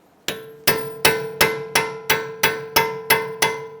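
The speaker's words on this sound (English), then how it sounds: "use a punch. You want to go into this little notch right here and open up this collapsed part of our spindle nut" Ten sharp metallic clanks from a hammer striking a punch into the notch of a collapsed spindle nut on a 2009-2015 Honda Pilot front wheel hub, evenly spaced about a third of a second apart, close and ringing with no talk.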